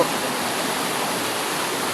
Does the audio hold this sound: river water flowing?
yes